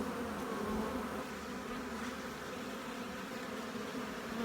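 Dense, steady buzzing of many honeybees around an open nuc hive during a brood check, close and continuous with no speech.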